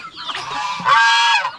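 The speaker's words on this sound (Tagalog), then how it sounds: "Yan, yung mga gansa natin." Loud, close honking from geese, a couple of overlapping nasal calls in quick succession with no talking.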